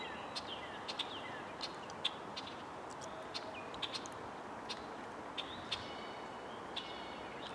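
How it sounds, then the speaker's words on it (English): Red-winged blackbird calling from a tree along a utility easement in May, short bright chirps and call notes repeated at intervals, fairly distant and faint over steady outdoor background noise with other birds. "Red-winged blackbird."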